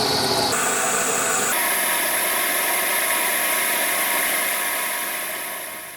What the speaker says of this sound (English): I'm just about to buff that off and see what we look like.